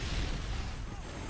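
A frag grenade exploding nearby in Modern Warfare 2, a loud, broad blast that fills the moment with dense rumbling debris and noise, sustained rather than sharply ended.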